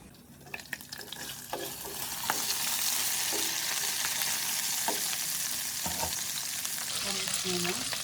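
Pork sizzles loudly in a pan with cumin, coriander powder, meat masala, salt and turmeric, a continuous close frying hiss broken by occasional stirring clinks and scrapes.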